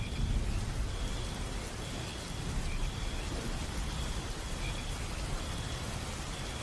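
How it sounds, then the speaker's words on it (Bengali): Steady rain falls continuously at night on a lonely road, a dense, even wash of patter with a low rumble beneath, unbroken and without voices. "এখানে বৃষ্টি ঝরছে অনবরত।"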